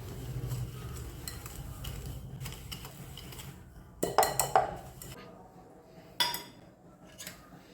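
Brownie batter with sugar is stirred by hand in a bowl, with soft scraping and a few sharp clinks of the utensil against the bowl, close and fairly quiet, with no talking.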